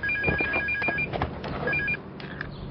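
Cordless Flexi Home house telephone ringing in an advertisement, bright repeated electronic ring bursts in a rapid trilling pattern, pausing and resuming, over light background sound.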